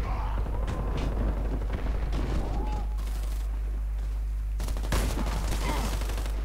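Rapid video game gunfire crackles in dense, sustained bursts under a loud, constant low rumble, with a player talking over the action.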